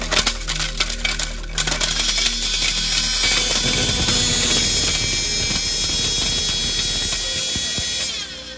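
A mixer grinder grinds gravel, starting with a rattling whir of stones knocking inside the jar, then a loud, dense gritty crunching roar that runs steadily before cutting off.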